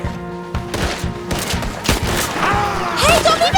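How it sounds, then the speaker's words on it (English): Gunfire in Red Dead Redemption II, a rapid run of sharp close shots and booming cracks in an uneven rhythm, with a whistling ricochet-like tone near the end. "Oh no. I'm getting shot."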